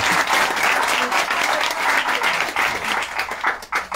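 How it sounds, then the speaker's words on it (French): Audience applause at a memory quiz contest, a dense steady wash of many hands clapping, loud and close, running through the whole stretch and thinning slightly at the end. "Applaudissements."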